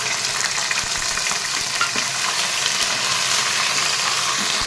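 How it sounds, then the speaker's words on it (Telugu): Sliced onions and ginger-garlic paste fry in a pan over low heat for chicken biryani, giving a loud, continuous sizzle and crackle with occasional stirring and no talk. "ఇలా ఉల్లిపాయ ఎర్రగా వచ్చిందాక వేసుకోవాలండి. ఇట్లా ఎరుపుగా వస్తే బాగుంటుంది మనకి బిర్యానీకి."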